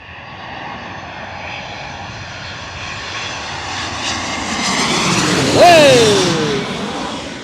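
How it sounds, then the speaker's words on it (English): A JetBlue Airbus A320 jet passes at LaGuardia Airport, its engine roar building steadily and peaking loud and close with a rising whine as it goes overhead, while people talk nearby. "I think that's our A320 right now. Yeah, from JetBlue."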